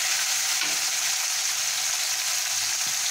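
Tomato with green chillies and nigella seeds frying in a pan for a Bengali bhola fish curry, giving a steady, bright sizzle throughout with a couple of faint stirring knocks, no voices.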